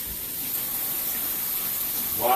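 Tap water runs in a kitchen sink as hands are washed, a steady, even rush of water that lasts throughout.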